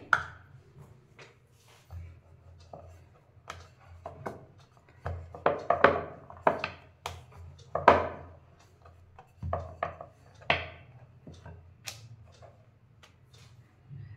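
Samosa dough pieces being rolled out with a rolling pin on a board, giving soft irregular rubbing and light knocks at close range, with quiet gaps between strokes and no talk.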